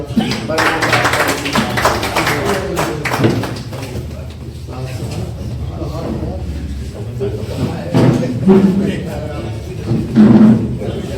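Audience applause for poet Dr. Farman Chaudhary at an all-India Urdu mushaira, a steady crowd clapping that runs beneath spoken talk and rises again near the end.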